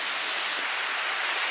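Rain falls during Hurricane Hanna in Houston by a bayou, a dense, steady hiss of drops close by with no gaps and no voices.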